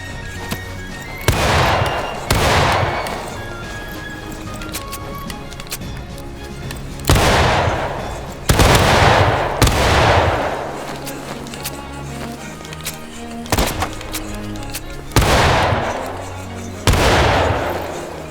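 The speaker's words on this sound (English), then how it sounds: "Keep firing, boys." Volleys of rifle fire from a line of soldiers in the Civil War game War of Rights: about seven heavy, booming blasts spaced a second or two apart, each with a rolling echo, over faint background chatter.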